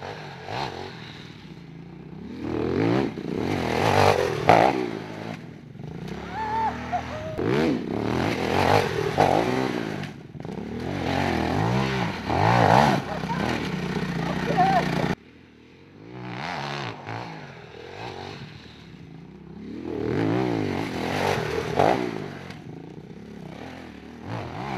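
Aprilia 450 MXV twin-cylinder motorcycle ridden off-road over technical rutted terrain, its engine revving and surging in repeated bursts with clattering and scraping, loud and close throughout, with brief dips in between.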